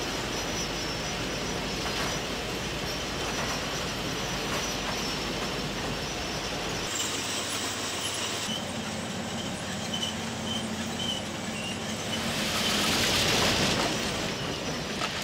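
A heavy track renewal train rolls steadily along the rails, wheels grinding and squealing with metallic clatter, loud and continuous throughout.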